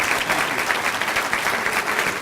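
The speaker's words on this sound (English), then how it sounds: "Let's give him a warm round of applause." An audience at a Chicago Park District event claps in warm, sustained applause, a dense even patter of many hands continuing throughout.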